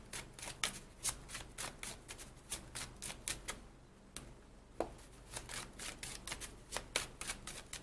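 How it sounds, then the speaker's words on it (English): Tarot cards being shuffled and handled, a quick series of crisp riffling flicks and slaps in close, rhythmic bursts with a brief pause midway, quiet overall and without speech. "I'm gonna pull one card for you here."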